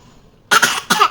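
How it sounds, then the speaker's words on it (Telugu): A sick child coughs twice in quick succession, close and fairly loud, each cough a short harsh burst after a brief quiet moment. "3 దగ్గు వస్తుంది. ఎలాగా?"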